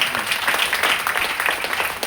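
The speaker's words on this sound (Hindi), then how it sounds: "जोरदार ताली बजाना चाहिए" An audience at a product seminar bursts into loud, dense applause that carries on steadily for a couple of seconds, close and continuous.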